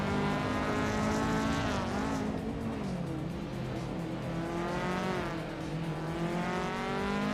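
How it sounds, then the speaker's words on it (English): Race cars roar past on a short track, a classic 1989 Toyota Celica among them, with engines rising and falling in pitch as they sweep by in a continuous loud, close drone. "the race has kicked off at the Highlands Short Track"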